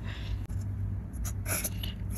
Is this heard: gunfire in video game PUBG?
no